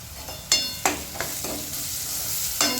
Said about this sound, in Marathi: मस्त परतून घ्यायचंय आता.